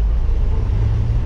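Car engine revving up on a city street, a steady loud low rumble sustained throughout with no talk.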